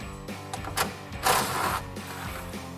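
An electric impact tool spins off the 8 mm bolts holding the stock front bumper on a 2017-2022 Ford F-250, giving a loud mechanical whirring and rattling burst with short ratcheting bursts around it, close up and without talk.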